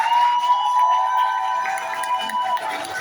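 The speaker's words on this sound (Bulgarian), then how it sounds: "Аплодисменти." Guests at a Bulgarian wedding reception applaud and cheer as a continuous wash of crowd noise, with a steady musical tone running underneath.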